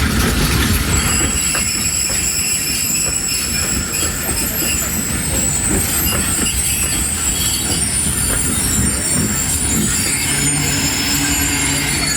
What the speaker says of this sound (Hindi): तो 2-3 मिनट रुकने के बाद यहाँ से ये रवाना हो जाएगी 28 down Drigh road railway station से